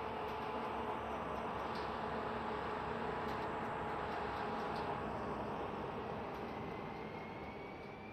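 A locomotive in Train Simulator 2 pulls out on the 1994 Kerbestrecke line toward Erfurt, its engine roaring steadily and broadband at a fixed level with faint tonal whines as the power notches step up, no voices.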